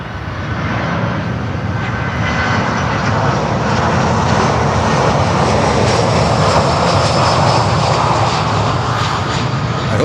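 ABX Air cargo airplane on runway 9 at an airport, a loud, steady engine roar holding close and constant for the full stretch with no pauses.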